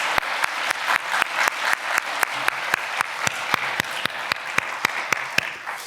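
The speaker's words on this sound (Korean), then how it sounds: "우리 하나님께 영광의 박수 올려드리겠습니다" A church congregation at a special dawn prayer service claps in a steady, rhythmic beat, evenly spaced sharp claps continuing throughout without speech.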